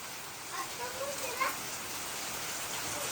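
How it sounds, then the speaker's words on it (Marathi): Steady rain hisses down in a Konkan village, a continuous soft wash of falling drops with a faint voice briefly audible in the middle. "पाऊस आला बघ"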